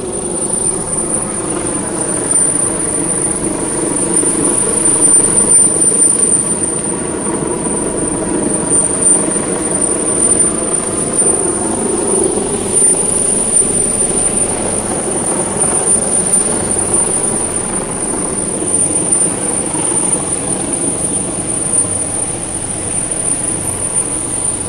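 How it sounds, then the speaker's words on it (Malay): A helicopter hovers overhead above a sit-in street protest near Dataran Merdeka, giving a steady, droning rotor hum that runs unbroken for about twenty-five seconds with no speech. "ada helikopter yang memantau daripada atas"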